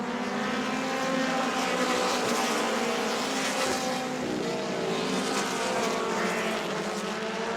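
Sprint cars roar around a dirt oval at the Auburndale Southern Sprint Car Shootout, a dense, continuous engine drone with harmonic whine, loud and sustained with no pauses.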